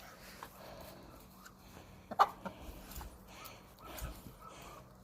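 Chickens cluck nearby in short, scattered bursts, one sharper squawk standing out, over a soft background with no talking.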